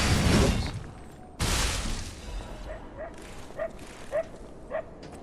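Dogs bark in the video game Lies of P: a run of short, yelping barks spaced about half a second apart, moderately distant, following two loud bursts of game noise at the start.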